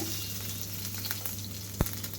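Green chillies fry in a little oil for a tempering, giving a steady soft sizzle with light crackle and one sharp utensil tap near the end.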